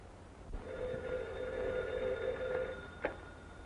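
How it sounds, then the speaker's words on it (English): In a 1934 mystery film scene, an old telephone rings with one sustained, steady tone lasting a couple of seconds, fairly faint against a background hiss, followed by a brief click. "Telephone. Telephone."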